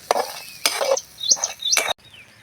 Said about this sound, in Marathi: तर आता थोडा वेळ असंच हलवून घेणार आहोत